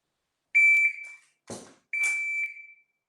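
Electronic shot timer beeps during dry fire pistol training, two loud, sharp tones about a second and a half apart, with a brief metallic clack between them.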